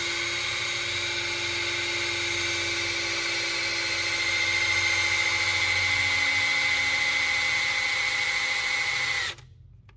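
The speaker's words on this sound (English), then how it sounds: "That's how you piss off your Milwaukee drill." A Milwaukee cordless drill whirs steadily at high speed for several seconds while priming a steering system on a 1966 Ford Mustang, rising slightly in pitch midway, then cuts off abruptly.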